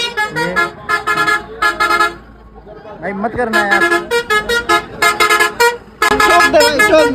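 Loud vehicle horns honk repeatedly in rapid, rhythmic blasts nearby amid road traffic on a bus ride in India, with a voice speaking briefly between the honks.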